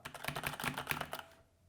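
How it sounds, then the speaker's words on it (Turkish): Quick clattering keystrokes on a Rampage KB-RMW23 Scout wireless gaming keyboard with red switches, a close, steady run of taps lasting about a second before stopping into quiet. "Klavye kırmızı switch görüyorsunuz."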